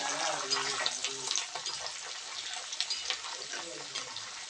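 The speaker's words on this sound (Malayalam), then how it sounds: "ഇഞ്ചിയും വെളുത്തുള്ളിയും ചേർത്ത് നന്നായിട്ട് മൂപ്പിച്ചെടുക്കാം കുറച്ച് കറിവേപ്പിലയും കൂടെ ആഡ് ചെയ്യുന്നുണ്ട്" Ginger, garlic and curry leaves frying in oil for a fish pickle, giving a moderate bubbling sizzle with scattered crackles and stirring noises throughout.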